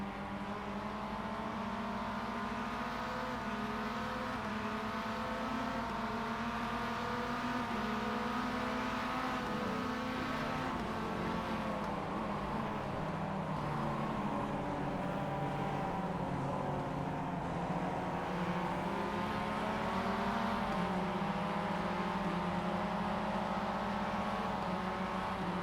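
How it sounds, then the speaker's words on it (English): Mazda MX-5 race cars lapping Summit Point Jefferson circuit in a race, a continuous droning engine note rising and falling with shifting pitch, heard at a distance without talk. "he is trying to put some laps down to get caught up to Simon here and get the second position back"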